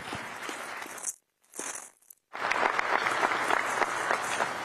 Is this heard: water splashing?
no